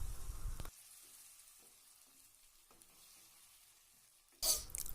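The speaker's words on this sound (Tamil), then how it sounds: "அரைச்சி வச்சுருக்க தக்காளி பேஸ்ட்டையும் இதோடு சேர்த்து நல்லா வதக்கி விட்டுறலாம்." Ginger, garlic and tomato paste are sautéed in a pan for channa masala: loud bursts of sizzling open and close the stretch, with a quiet middle of faint stirring clicks.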